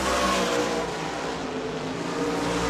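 Race car at New Smyrna Speedway during a 59-lap oval race, engine roaring steadily loud and close as it passes the start-finish line, sustained throughout with no pause.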